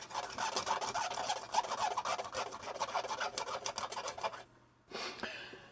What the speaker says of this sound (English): I will just give it a bit of a clean with some IPA.